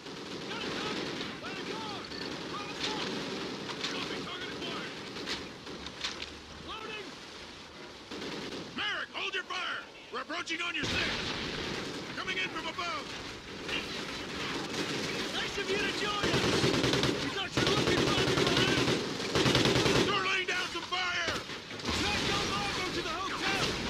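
Call of Duty Ghosts gunfire on Xbox One, with dense bursts of automatic rifle fire and scattered shots going on almost without a break, loud and close, plus a brief lull partway through.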